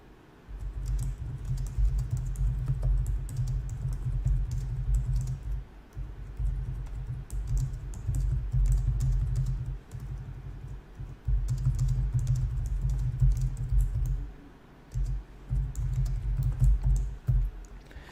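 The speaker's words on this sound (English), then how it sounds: "just essentially type what our store is about, what we sell" Someone types steadily on a computer keyboard while entering a store's meta description during Shopify setup. The keystrokes come in close, continuous bursts with brief pauses between phrases and no speech.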